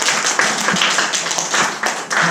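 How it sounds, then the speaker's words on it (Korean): A congregation claps together at a church family retreat, close, brisk applause in an indoor hall. "박수 한번 합시다"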